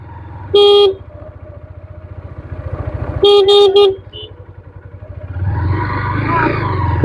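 A motorcycle engine idles and putters close by near a riverside sandbank, broken by a short horn blast and then a quick burst of several honks, with another engine rising toward the end.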